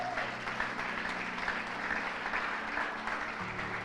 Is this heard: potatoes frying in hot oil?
no